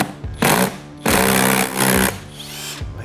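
A Harbor Freight impact driver tries to remove a stubborn fastener, firing in loud, rattling bursts: a short hammering burst, then a longer one broken by a brief pause, then a quieter trailing rattle.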